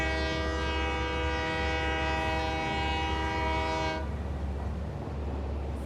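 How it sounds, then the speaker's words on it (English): An AI-controlled train in the video game Satisfactory sounds a loud, sustained horn for about four seconds over a steady low rumble, and the rumble continues alone after the horn cuts off. "It's an AI train. It doesn't phase through him. It pushes him."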